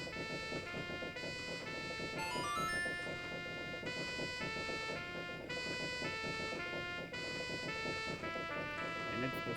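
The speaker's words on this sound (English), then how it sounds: "And it's the Song of Healing." The Song of Healing melody from The Legend of Zelda: Majora's Mask plays as a sustained, layered game tune with a dense, steady backing, while faint talk drifts underneath.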